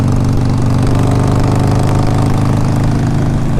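A 2007 Harley-Davidson 883R motorcycle engine runs steadily nearby, a loud, continuous low rumble with an even rhythmic throb and no talk over it.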